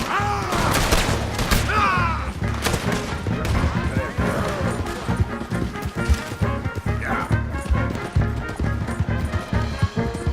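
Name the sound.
gunfire in the video game Red Dead Redemption 2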